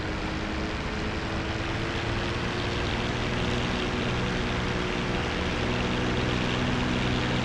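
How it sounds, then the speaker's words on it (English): Steady, loud drone of a TF-51 propeller aircraft engine during a run-up test on the ground before takeoff, a continuous roar that holds level without pauses. "We're just going to do a quick run-up test."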